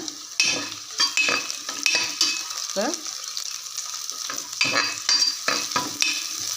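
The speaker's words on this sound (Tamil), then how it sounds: "வெந்தயமும் பொரிஞ்சிருச்சு வெங்காயமும் வதங்கிட்டு" Oil sizzles steadily as onions and fenugreek seeds fry in a pan, with intermittent stirring scrapes and clinks of a utensil close by.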